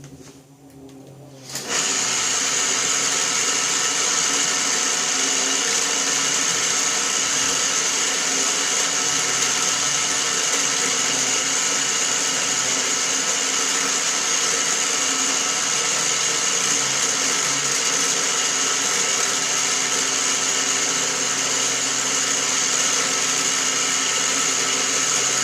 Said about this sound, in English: get ready to drill the hole